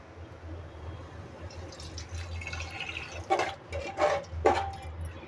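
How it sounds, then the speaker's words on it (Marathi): Water is poured into a dal and rice mixture for Marathi-style dal khichdi. A low, quiet background gives way to a few short splashing, gurgling bursts near the end, with no talk. "ह्याच्यामध्ये आपल्याला पाणी टाकून घ्यायचं आहे"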